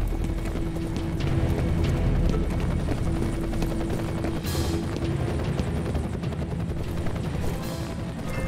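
A helicopter in the video game F.E.A.R. Perseus Mandate throbs steadily and loudly, its rotor beat filling the whole stretch without pause.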